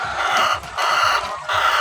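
Layer chickens on a poultry farm cluck and squawk close by in a continuous, busy chorus during hot weather, with a brief dip in the middle before the clucking resumes.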